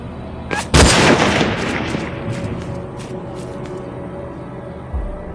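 A single loud gunshot in the video game Hunted cracks close by and echoes away over a few seconds, followed by a fainter distant shot near the end.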